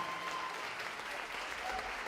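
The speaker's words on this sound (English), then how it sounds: "Give them boys a round of applause." Audience applause at a high school music show, steady dense clapping throughout at moderate level with no pauses.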